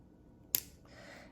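Wire cutters trim the wire tail on handmade retro Christmas earrings with a single sharp, close snip that rings briefly over a quiet background.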